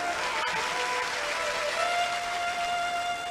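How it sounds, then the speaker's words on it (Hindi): Audience clapping steadily at a Hindi religious discourse, a dense continuous wash of applause filling the hall with a faint sustained tone beneath it. "ताली बजानी पड़ेगी आपको।"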